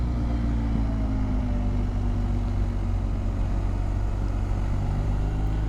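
A BMW motorcycle at speed gives a steady, loud, unbroken engine drone with wind rush throughout, no voices, running evenly from start to finish.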